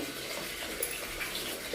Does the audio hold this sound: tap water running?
yes